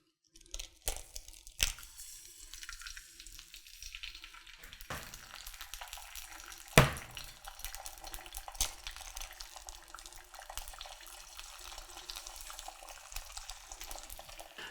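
Eggs frying in olive oil in a pan give a quiet, steady sizzle, broken early on by a few clicks and knocks and one sharp clunk midway.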